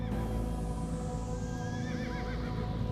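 A horse neighs with a long, rising and falling whinny close by, over a steady low rumble and faint hoof clopping.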